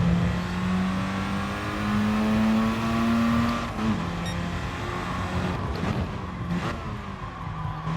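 Mazda RX-7 race car in Gran Turismo Sport, a rising engine whine that climbs in pitch, drops sharply at a gear change, then builds again, with a faint quieter engine behind it.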